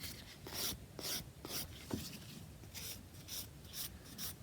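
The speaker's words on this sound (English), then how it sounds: "File around the cuticle." A nail file rasps around a fingernail cuticle in a series of soft, rhythmic strokes, roughly two per second, close up and fairly quiet, with no talking.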